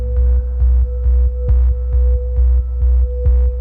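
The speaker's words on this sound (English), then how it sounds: "He heard and felt a low pulsing hum." A low electronic hum throbs in a steady repeating pulse, roughly three beats per second, loud and close with a constant tonal drone underneath, a sci-fi spaceship sound effect heard alone.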